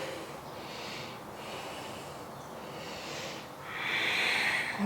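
Slow, deliberate yoga breathing during a forearm stand flow, with long airy inhales and exhales rising and falling in soft waves, close and fairly quiet, the last breath louder.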